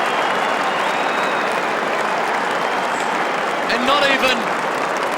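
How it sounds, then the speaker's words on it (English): St Kilda supporters cheer and applaud at an Australian rules football match against Brisbane in 2003, a dense, loud crowd roar running steadily throughout with a commentator talking over it. "The behind counts and the Saints fans will stand and cheer"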